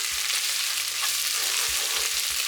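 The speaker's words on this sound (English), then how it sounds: "So right now what I'm doing is frying it, and it's gonna burn easily" Tomatoes fry in a pan for a beef and tomato stew, giving a steady hiss of sizzling, with scraping and tapping as the pan is stirred and a few low knocks near the end.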